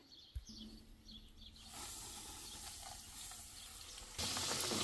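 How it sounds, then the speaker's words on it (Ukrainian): A meat-filled cheburek drops into hot oil, and a faint broadband hiss of frying swells up after a quiet start, then grows louder toward the end. "І нараз кладу другий жарити."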